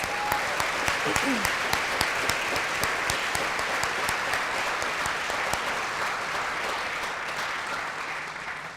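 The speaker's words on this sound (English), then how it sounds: "Let's give all of these graduates one more round of applause" A graduation audience applauds the graduates at an AVID ceremony, steady dense clapping from a large crowd that carries on evenly for the full length, with a brief voice near the start.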